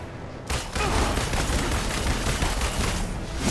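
Enemy gunfire in the Marvel's Avengers video game, a dense, continuous fusillade of rapid shots that bursts in after a brief quiet and keeps rattling loudly to the end, with no talking over it.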